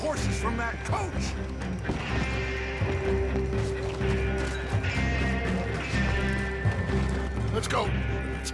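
Hooves pound in a quick galloping rhythm in a Red Dead Redemption 2 game scene, with horses taken from a coach, mixed with rattling and voices calling out over the action.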